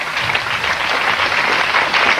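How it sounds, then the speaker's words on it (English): Steady, loud applause from a live-show audience for the band, a dense continuous wash of many hands clapping without a break. "give a big round of applause to our band"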